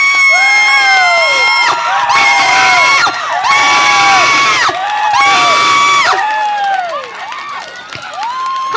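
Students at a Thai political rally let out long, loud sustained screams in several overlapping bursts, with crowd cheering mixed in between the shrieks.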